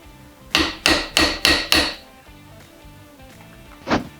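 Setting a rivet in a restored Volkswagen Beetle vent window held in a vise, five evenly spaced sharp metallic hammer blows with ringing decay, then a pause and one lighter final tap.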